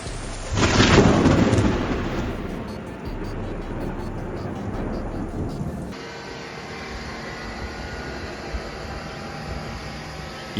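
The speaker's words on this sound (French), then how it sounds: "Un éclair spectaculaire à Lawrence, Kansas, le 22 septembre." Thunder from a spectacular lightning strike in Lawrence, Kansas: a loud crack builds into a heavy rolling rumble over rain, then fades into quieter rain and a distant low drone.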